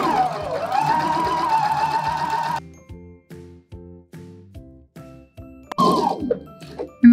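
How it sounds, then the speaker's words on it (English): A sewing machine runs basting stitches along a fabric sleeve edge in a steady, rapid mechanical patter, close and alone, with a brief whirring start and a clunk near the end. "For the first row of basting stitches, I'm going to line up the edge of the foot with the edge of my fabric."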